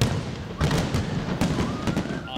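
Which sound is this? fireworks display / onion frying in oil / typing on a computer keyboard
fireworks display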